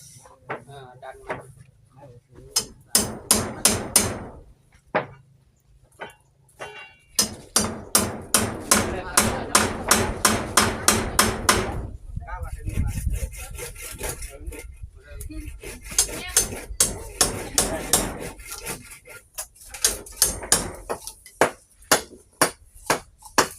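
Hammer blows from house building ring out in bursts of sharp, rapid strikes, close and loud, with pauses between runs and some clattering and talk mixed in.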